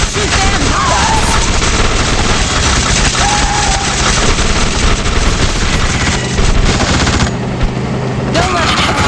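Sustained heavy gunfire from The Suffering: Ties That Bind, loud and continuous bursts of automatic weapons filling the street fight, with booming impacts under voices.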